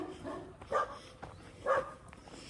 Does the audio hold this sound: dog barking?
yes